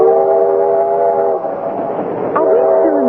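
A steam train rolls on a radio drama, a steady loud rumble under a sustained multi-tone whistle that cuts off, then a second whistle blast that bends downward near the end.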